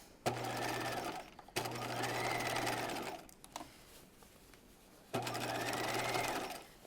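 Domestic sewing machine stitching through several fabric layers and seam allowances on a raglan top, three close bursts of fast, steady whirring separated by short pauses with small handling clicks between.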